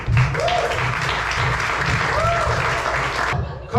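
An audience at a poetry slam breaks into sustained, dense applause that fills the room, with a voice calling out over the clapping.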